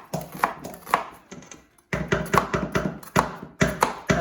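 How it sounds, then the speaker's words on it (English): A knife chopping a halved red onion into small pieces on a board, crisp rhythmic taps in quick bursts with a short pause partway through. "I'm gonna start cutting up my red onion here"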